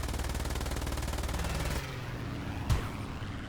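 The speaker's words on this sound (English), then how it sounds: "I've still got ammo left, so I might as well shoot at this guy as we go past" Machine gun fire from a Do-217 N-1 aircraft in the War Thunder game, a loud rapid burst of evenly spaced shots lasting almost two seconds, then engine drone and a single sharp thump.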